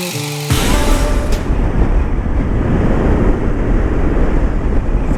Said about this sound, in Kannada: ವಿಂಡ್ ಬ್ಲಾಸ್ಟ್ ಅಂತೂ ಬ್ಯಾಡ ಐತಿ